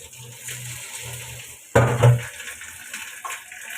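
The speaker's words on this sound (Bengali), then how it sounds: "এই বাগারটা এখন আমি এখানে ঢেলে দিব।" Hot bagar tempering poured into a cabbage and egg dal, giving a sudden loud sizzling splash that fades over about a second, over quiet kitchen background.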